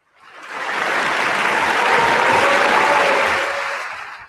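Audience applause on an Italian radio show swells quickly, holds as a dense, loud wash of clapping for several seconds, then fades away.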